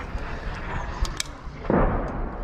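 Gunfire crackles during combat in Ukraine, a few sharp distant shots and pops, with one heavier, louder burst near the end over a constant noisy background.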